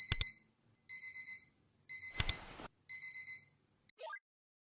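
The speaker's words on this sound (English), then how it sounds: "Let me proceed forward so I can take away the alarm." A video-game alarm clock rings in Persona 5: The Phantom X, repeating bursts of bright electronic beeps in short rhythmic groups, broken by a couple of sharp thuds and a rising chime at the end.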